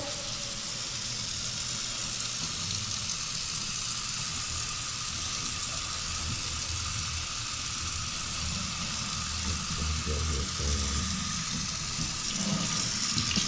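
Steady running water from a sink faucet in a newly built Lennar home in Houston, a continuous broadband rush at moderate level with no speech over it.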